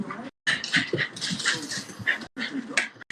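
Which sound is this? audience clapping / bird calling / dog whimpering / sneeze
dog whimpering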